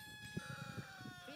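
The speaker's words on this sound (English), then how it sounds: "He's the visiting chicken." A backyard chicken clucks in a few short, soft bursts, close by against a faint steady hum.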